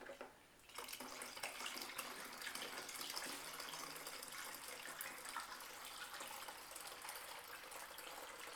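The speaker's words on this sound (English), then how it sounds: "I'm going to fill this other gallon up with chilled water." Chilled water gushes from a tap into a gallon jug, a strong continuous rushing fill that starts after a brief quieter moment and stays loud and close with no talk.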